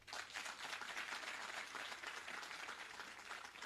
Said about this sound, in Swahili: Msanii ungepiga makofi mazito kuliko huu